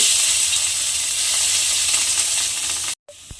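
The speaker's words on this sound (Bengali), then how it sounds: "মেখে নিয়ে তেলের মধ্যে দিয়ে দেব। দিয়ে ছানাটাকে একটু হালকা করে ভেজে নেব।" Chhana, soft cottage cheese, sizzles steadily as it fries lightly in hot oil, a dense continuous crackle that cuts off abruptly near the end, followed by a faint clink.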